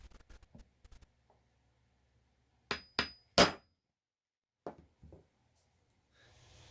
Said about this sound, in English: after a whole bunch of hammering like that, trying very hard not to scratch the paint or dent the plastic